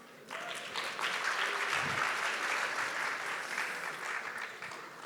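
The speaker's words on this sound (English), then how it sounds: "A big round of applause." Sustained audience applause from a large crowd at a talk with Dr Jane Goodall, starting abruptly and holding steady for several seconds.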